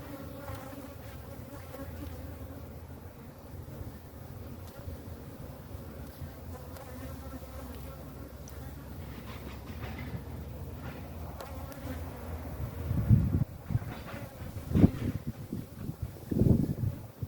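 Honey bees buzz continuously around a hive frame, a close, dense drone with some wind noise, swelling in a few louder passes near the end.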